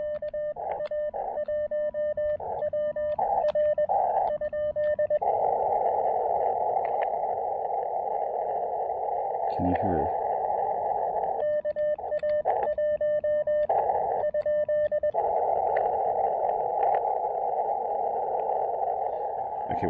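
A ham radio receiver at a summit-on-the-air station on Hibriten Mountain, run on low power, plays a Morse code CW tone: a steady near pitch broken into beeps with dense rhythmic keying and longer held tones, over faint static, with no speech.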